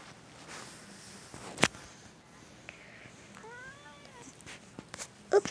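A shy cat gives a short series of soft, rising meows in a quiet room, with a couple of sharp taps and faint rustling around them.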